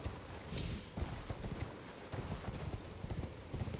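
Galloping horse hooves in the video game Elden Ring, a fast steady clip-clop rhythm running close and loud throughout, with a faint whinny mixed in.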